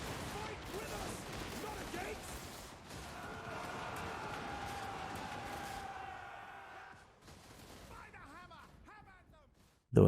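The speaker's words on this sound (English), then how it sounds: "in the frontline troops around Karl Franz amidst the staccato crack of gunfire and hooves of their comrades seeking revenge for their fallen." Battle gunfire from the Total War: Warhammer 3 game, a dense roll of cracking shots and booming blasts that slowly fades, with a voice speaking over part of it and a sudden loud hit at the end.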